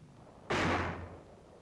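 A 4.2-inch mortar fires on a battlefield near Aachen, Germany, in 1944: one sudden, heavy boom that rings on and fades over about a second.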